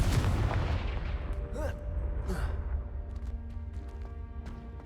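A Confringo blasting spell explodes in the Hogwarts Legacy video game: a loud, close booming burst opens and rolls off into a long rumbling decay, with brief whooshing swells and faint ringing magical tones trailing after, and no talk.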